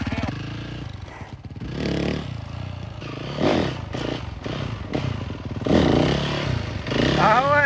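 A motocross dirt bike, recently repaired after a crash, revs and accelerates nearby, its engine rising and falling with rattles and clatter while people talk over it.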